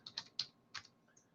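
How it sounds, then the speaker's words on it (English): Quick bursts of keystrokes on a computer keyboard as a web address is typed, about four sharp clicks close by in a quiet room with no voice. "I'm going to go up here and I'm going to type in"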